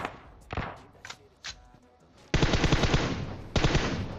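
PUBG Mobile gunfire: a few scattered single shots, then two dense bursts of rapid automatic fire, loud and close.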